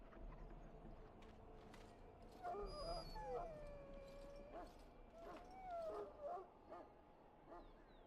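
A wounded dog in a pen in the video game Dragon Age: Origins whimpers and yelps in several thin, high, wavering cries over a quiet background, with faint talk in between.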